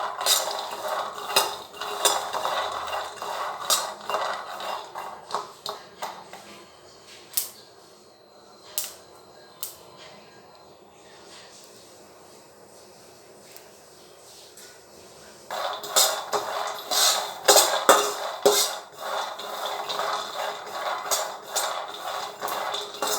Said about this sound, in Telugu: ఇలా మీడియం ఫ్లేమ్లో పెట్టి ఫ్రై చేయండి.